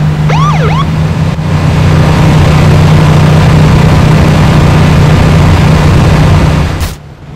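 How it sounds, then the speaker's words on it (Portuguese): A police car siren in the video game Arma 3 wails in rising and falling sweeps over a steady engine drone, loud and close, cutting off near the end. "Sirene é só pra chegar perto, velho."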